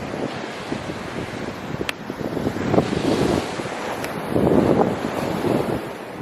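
Ocean surf at Laguna Beach near a sea cave breaks in rolling surges under steady wind buffeting, with two louder swells building and washing in.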